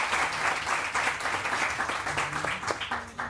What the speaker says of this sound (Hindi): आजम खान साहब के लिए बहुत सारी तालियां